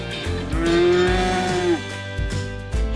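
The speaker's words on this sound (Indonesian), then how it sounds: "Sapi." A single cow moos once, close and clear, a low drawn-out call lasting about a second and a half against a quiet background.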